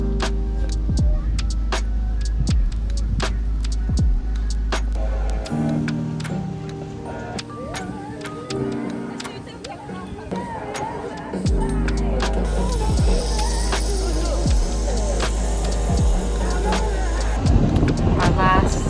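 A golf cart hums along steadily on a resort ride to the beach in Mexico, with clicks and rattles over the engine and voices talking now and then.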